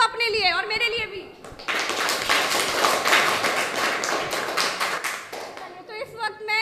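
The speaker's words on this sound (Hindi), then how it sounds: "वेरी गुड, ताली बजा दो अपने लिए और मेरे लिए भी।" Children in a madrasa in Lucknow clap together in a dense, lively burst of handclaps lasting several seconds, framed by a voice talking before and after.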